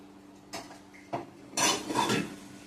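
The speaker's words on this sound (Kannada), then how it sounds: "ಸೌತೆಕಾಯಿ ಕಟ್ ಮಾಡಲಿಕ್ಕೆ ಇಟ್ಟಿದ್ದೀನಿ" A knife chops through a cucumber on a board in a home kitchen, giving three distinct cuts spaced about half a second apart, followed by a louder clattering burst of utensil and dish contact.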